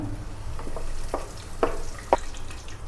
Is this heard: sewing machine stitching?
no